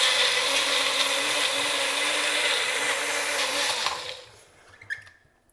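A blender whirs loudly and steadily while making a Doritos and Mountain Dew smoothie, then spins down and cuts off near the end, leaving a few faint clicks and knocks.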